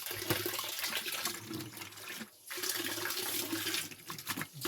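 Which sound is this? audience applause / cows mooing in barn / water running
water running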